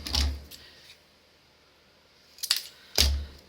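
Scissors cut through a strip of card for a handmade hand fan card: a short snip at the start, then two quick, crisp cuts close together near the end, close and fairly quiet with silence between.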